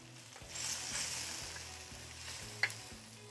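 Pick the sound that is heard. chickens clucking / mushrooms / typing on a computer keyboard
mushrooms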